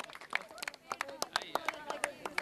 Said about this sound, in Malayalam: നല്ലൊരു കൈയടി നമുക്ക് കൊടുക്കാം.